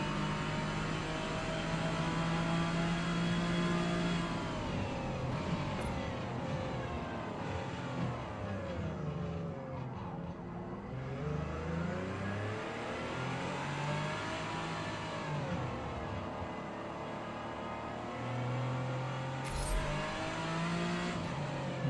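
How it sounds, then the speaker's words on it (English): Ford EcoBoost engine of a car in a racing video game, loud and continuous, revving up and down through gears with a steady drone, a brief dip in the middle and a short squeal-like burst near the end. "I like the sound of the EcoBoost."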